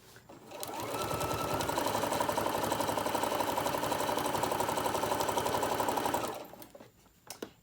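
Sewing machine stitching minke fur fabric for a baby tag blanket, running steadily and loud for about five seconds before stopping, followed by faint handling noise.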